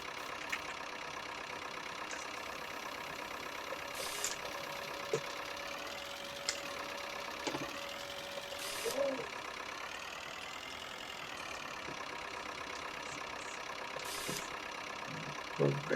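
A 1958 tractor engine runs on a farm, a faint, steady mid-pitched idle that continues evenly, broken by a few brief clanks and knocks.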